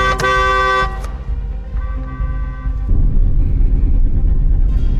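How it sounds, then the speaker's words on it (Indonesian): A loud car horn blares for about a second, followed by fainter honks and a low engine rumble that swells toward the end. "Pak Gyu pun mulai membunyikan klakson."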